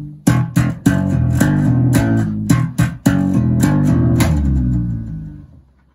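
Electric bass notes plucked in a rhythmic pattern, sharp attacks over a sustained low tone, ringing out alone and fading at the end.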